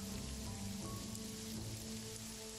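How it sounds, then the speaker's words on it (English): Steady rain pattering constantly in the video game Jagged Alliance 3, a soft even hiss with faint tonal hums underneath and no voices. "The rain is a problem for us."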